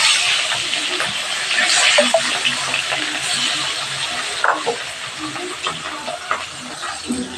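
Fish frying in hot oil in a home kitchen pan, a steady broadband hiss and crackle that holds loud and even throughout, with small pops scattered through it; a small amount of fish in the pan.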